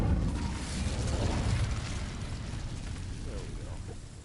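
A fiery Incendio spell blast in the Hogwarts Legacy video game gives a rumbling, roaring burst that swells and slowly fades, with a voice speaking quietly over it.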